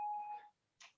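A phone's electronic beep goes off in the middle of a podcast recording, a steady tone about half a second long, followed by a brief noisy blip.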